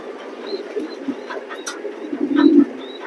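Pigeons coo in a loft, low throaty calls close by, the loudest swelling near the end, over quiet shuffling and faint background bird chirps.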